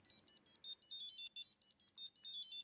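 A bright electronic chime of rapid, repeated high beeps in a quick rhythmic pattern, close and clear with no talking.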